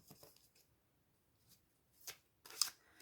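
A resource card drawn from a card deck, soft faint papery shuffles and slides that end in a couple of sharper card snaps near the close, in a quiet room with no talking.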